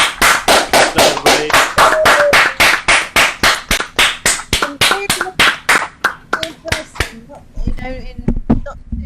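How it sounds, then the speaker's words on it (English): A large group gives a big round of applause at the end of a youth jazz ensemble session, dense loud clapping that swells and then thins out into scattered claps near the end. "Could you give yourselves and Ralph a massive round of applause?"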